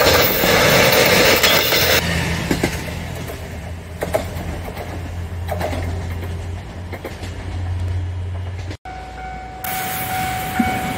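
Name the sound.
JR Nanohana train bound for Minami-Kagoshima crossing level crossing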